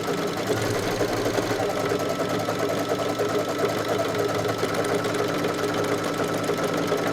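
An embroidery machine stitching fabric pieces onto a pot holder runs in a fast, even, continuous rattle, close and steady throughout with no talk.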